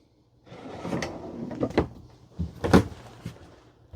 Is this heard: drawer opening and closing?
yes